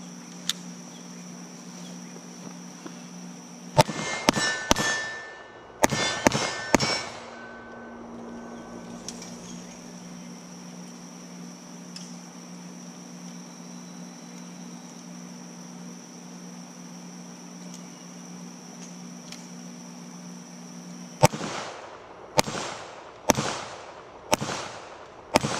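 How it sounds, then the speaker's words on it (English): Colt Night Cobra revolver shots fired at 7 yards ring out in two clusters of sharp, loud cracks, several rapid reports each, separated by a long quiet stretch with a steady electronic hum. "we're here with the Colt Night Cobra. 7 yards. Let's see how she shoots."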